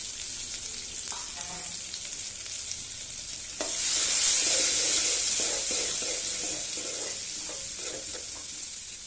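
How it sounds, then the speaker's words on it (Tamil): Crushed onions and four or five garlic cloves frying in oil for sambar give a steady close sizzle that jumps louder partway through, with light stirring clinks in the pan. "கட் பண்ணி வச்சுருந்த வெங்காயம் இடித்து ஒரு 4-5 பூண்டையும் சேர்த்து நல்லா ஃப்ரை பண்ணிக்கணும்"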